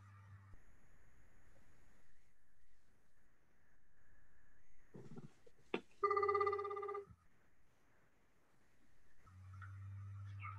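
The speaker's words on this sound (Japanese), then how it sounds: "電話をしてみたいと思います" A telephone rings while a call is being placed: a single burst of electronic ringing of about a second, loud and clear against a quiet room, with a little faint background noise before and after.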